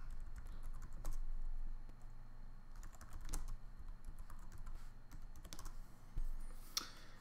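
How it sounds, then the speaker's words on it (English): Keystrokes on a computer keyboard as a password is entered to log in to a CentOS system, scattered irregular clicks over a steady low hum, fairly faint and with no speech. "notice that I had to type in a password when I logged in here"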